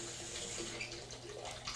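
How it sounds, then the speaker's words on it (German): Tap running cooler water into a bathtub, a steady faint rushing splash that stays even throughout with no talking. "Ich lasse etwas kühleres Wasser ein."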